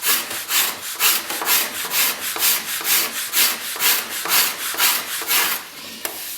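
Steady rhythmic scraping on an oak chair seat, worked by hand with traditional tools such as a scorp, tavisher or cabinet scraper, about a dozen close, even strokes in a row with no talking.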